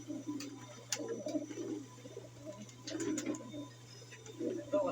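Pigeons cooing in a fancier's loft, low repeated coos in soft bursts with faint ticking and bird noise, over a steady low hum.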